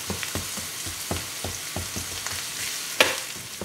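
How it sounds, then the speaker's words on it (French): Vegetables sweat gently in a pan over low heat, giving a soft continuous sizzle with regular light stirring taps and one sharper clink near the end, no talking. "on les laisse suer tranquillement"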